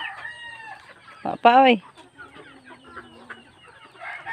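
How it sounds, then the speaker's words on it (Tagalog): Backyard chickens cluck and a rooster gives a short loud crow up close while a person speaks briefly, with scattered hen calls continuing around. "yung mga manok natin"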